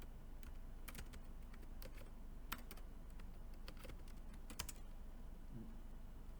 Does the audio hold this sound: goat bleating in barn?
no